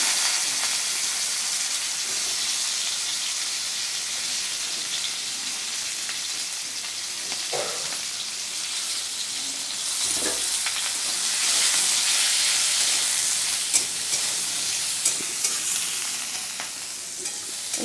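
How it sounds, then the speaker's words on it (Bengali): Flat beans frying in hot oil in a wok, with a steady, close sizzle and hiss throughout and a few soft stirring clinks. No one speaks. "এবার ওই তেলেই আমি ছিম দিয়ে দেবো"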